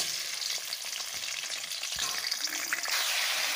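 Raw green mango pieces hit hot oil in a pan and fry with a loud, steady sizzle and hiss, close by, with a few soft stirring knocks mixed into the crackle.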